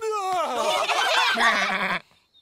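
A cartoon sheep gives one loud, wavering bleat lasting about two seconds, close up and clear.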